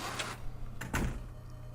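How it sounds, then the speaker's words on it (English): The Ophiel door opening in the Silent Hill 1 video game, two short mechanical clunks close together over a low droning hum. "This is the Ophiel door"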